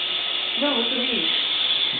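A Roomba robot vacuum runs with a steady, close mechanical hum while a person briefly speaks over it.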